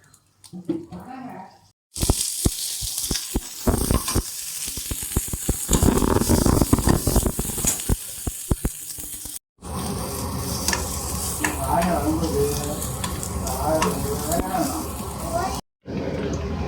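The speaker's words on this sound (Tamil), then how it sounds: "வெங்காயம், இஞ்சி, பூண்டு, கொத்தமல்லி, அரிசி, பட்டை, வரமிளகா, கொஞ்சோண்டு எண்ணெய் ஊற்றி வணக்கணும்" Onion, ginger, garlic, coriander, rice and spices fry in a little oil, a loud close sizzle with stirring scrapes and clatter, broken by short silent gaps, with talk heard at points.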